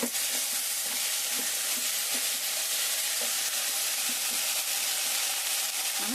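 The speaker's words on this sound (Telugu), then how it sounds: "ఈసారి మగ్గింది చూద్దాం మీరు చూసారా చక్కగా నూనెలో మగ్గింది" Eggplant pieces frying in oil for a curry with dried fish and eggs, a loud dense sizzle and hiss that stays constant, with faint rhythmic stirring scrapes beneath.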